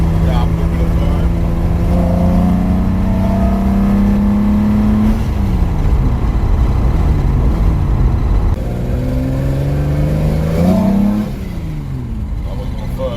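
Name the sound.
265 Hemi engine revving on a dyno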